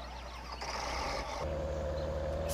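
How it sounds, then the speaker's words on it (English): A tractor engine in Farming Simulator 2013 cranks and catches, settling into a low, steady diesel rumble with a droning hum, faint and close, with no talk over it. "start the engine"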